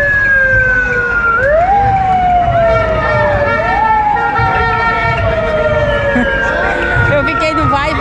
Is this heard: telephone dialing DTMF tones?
no